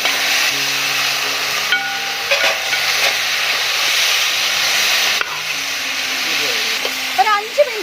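Two kilograms of mutton hitting a pan of onions and green chilies, a steady broad sizzle and hiss with occasional stirring clatter and faint tonal beeps, while someone talks over it.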